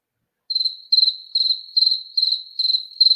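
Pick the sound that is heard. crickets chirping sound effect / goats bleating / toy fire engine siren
crickets chirping sound effect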